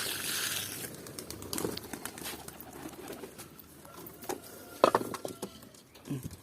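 Pigeons kept at home coo softly in short, scattered calls, mixed with light patter and a few sharp knocks or flaps nearby, against quiet room background.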